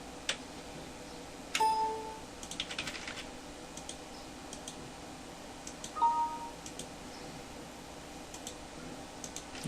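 Light keystrokes on a computer keyboard come in short bursts, near and fairly quiet, with a couple of brief chime-like notes in between.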